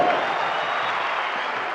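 Crowd at a prayer-day rally in Kasarani applauding Kenyan musicians, a dense, steady wash of clapping from a large audience, loud and continuous.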